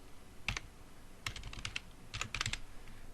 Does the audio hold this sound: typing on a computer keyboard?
yes